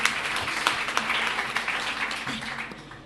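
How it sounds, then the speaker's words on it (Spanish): Audience applause at a book presentation during the 2018 Book Fair, a steady wash of clapping through the whole span with a few sharper claps standing out and some voices mixed in. "y ahora nos aplaudimos nosotros"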